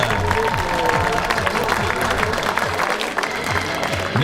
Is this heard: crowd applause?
yes